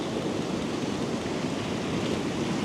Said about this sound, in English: that water's getting higher and higher and popping up higher and higher over all these rocks